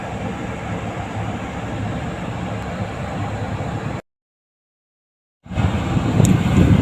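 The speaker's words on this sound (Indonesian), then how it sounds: "suara saya tercampur dengan suara deruan kipas blower Mbak ya" In a Daihatsu Taruna, the car's blower fan roars as a steady, close broadband rush, cut off by a short silent gap before resuming louder.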